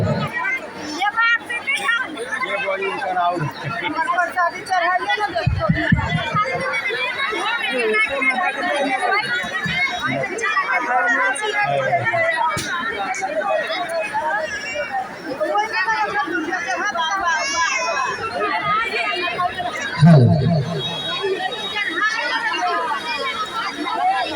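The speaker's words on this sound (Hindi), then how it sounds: "पूजा पंडाल में भक्तों की भारी भीड़ है।" A packed Ganpati puja pandal fills with dense, continuous babble from a large crowd of devotees, many voices overlapping close by with occasional louder shouts.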